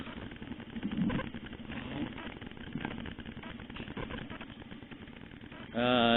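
A motorcycle with newly repainted mag wheels idles at a workplace, its low, steady engine rumble running continuously under a muffled voice, with a brief sharper tonal sound at the very end.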